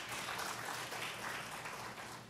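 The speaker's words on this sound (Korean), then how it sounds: "박수로 환영해 주시기 바랍니다." A church congregation at a Friday Bible study claps in welcome for newcomers, a soft, even patter of many hands at a modest distance, steady throughout with no talking over it.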